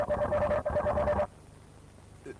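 Robot dog swarm communication: a fast burst of trilling, phone-ring-like electronic beeps lasting just over a second, followed by near silence and a brief faint chirp.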